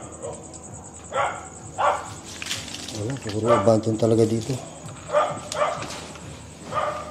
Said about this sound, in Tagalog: Maingay lang yung aso dun sa kabilang part.